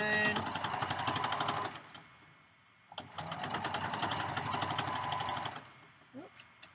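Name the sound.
sewing machine stitching down a bag strap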